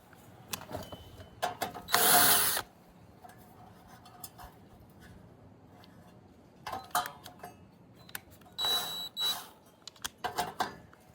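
Hand tools work on an engine to take off its carburetor, which is not pulling fuel and only runs on starting spray, giving scattered clicks, ratcheting and short metallic bursts close by in a quiet workspace.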